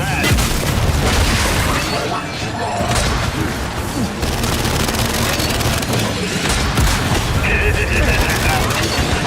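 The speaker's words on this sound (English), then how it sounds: "Incoming frag!" A frag grenade explodes in Gears of War 5 amid a dense stretch of booms, gunfire and crashing impacts, loud and continuous, with voices talking over the battle noise.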